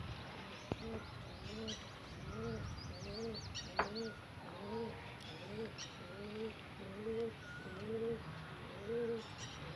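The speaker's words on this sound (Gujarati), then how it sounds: "2 કબૂતર આપણા ઉડે છે" Domestic pigeons coo in a steady rhythmic series close by, with light chirps and an occasional sharp knock, while someone talks over them.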